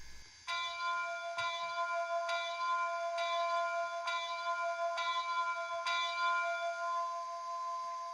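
Bell of a Rapido Canadian Pacific H-1a model locomotive ringing in a steady, regular rhythm of about ten clear metallic strikes, close and alone.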